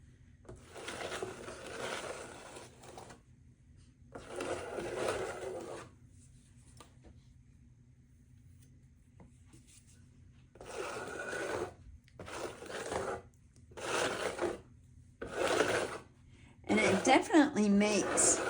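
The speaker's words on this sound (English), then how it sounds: "I'm going to take my trowel and just do a nice drag" A trowel drags across layered mixed media paper in a run of rasping scrapes, roughly half a dozen strokes of a second or two each, separated by pauses and close up under a low steady hum.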